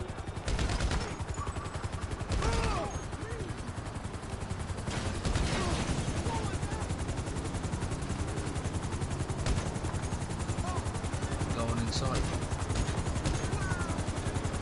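GTA 5 Online gunfire aimed at security cameras: sharp repeated shots and bursts over a steady whirring helicopter-like drone, with voices talking at times.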